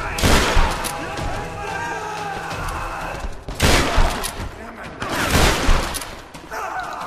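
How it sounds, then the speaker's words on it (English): Shotgun blasts in Tomb Raider, heavy booming shots going off in rapid clusters with sharp gaps between them, loud and close amid other combat noise. "That shotgun's nasty."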